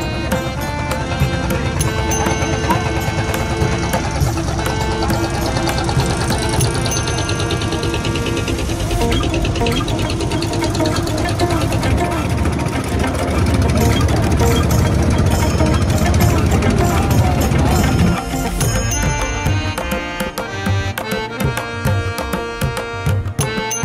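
A hired trawler's engine chugging steadily on a haor river journey, a loud, rhythmic knocking drone that runs for over twenty seconds, close and dominant, with a brief shift in tone near the end.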